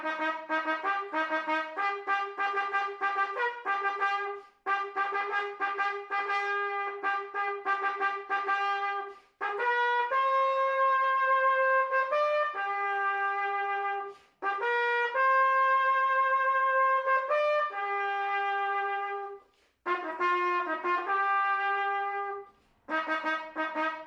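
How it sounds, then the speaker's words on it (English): A solo trumpet plays a lively melody close and clear, mixing quick repeated staccato notes with longer sustained tones in phrases separated by short pauses. "The trumpet sounds like this."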